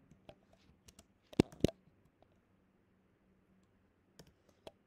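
Code typed on a computer keyboard, with sparse, quiet clicks and a short cluster of louder keystrokes partway through, close and alone in a quiet room.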